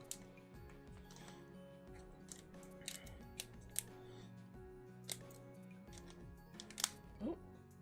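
A few sharp scissor snips and clicks as not very good scissors try to cut open Elestrals card packaging, close and fairly quiet, with a voice talking intermittently between the cuts.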